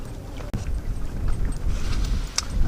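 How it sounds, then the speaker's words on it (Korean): Wind gusts across a fishing spot on a riverbank before dawn, a rough, rumbling low rush that holds steady and swells unevenly, with no voices. "바람이 또 다시 부네요, 이거."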